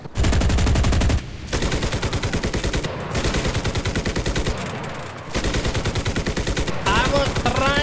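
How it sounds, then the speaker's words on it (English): Sustained automatic gunfire in the video game Enlisted, long loud machine-gun bursts of rapid evenly spaced shots broken by brief pauses, close and dominant throughout. "Someone is shooting at my buttocks."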